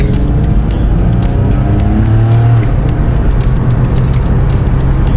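A Nissan Skyline R34 with an automatic transmission drives under a loud, steady engine drone with tire noise. The pitch rises and settles as it shifts, close and constant.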